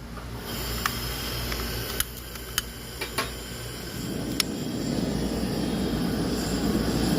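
A Coleman two-burner propane stove fed from a 20 lb tank through a valve roars with a steady broad hiss that swells louder toward the end, with a few faint clicks early on.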